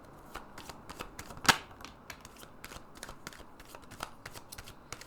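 A tarot deck being shuffled by hand, a run of quick papery card riffles and slaps at close range, with one sharp louder snap partway through and no voices.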